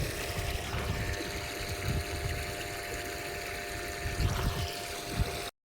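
Drinking water runs from a tap in a steady, continuous gush with low sloshing and splashing, close by and fairly loud, cutting off abruptly at the end.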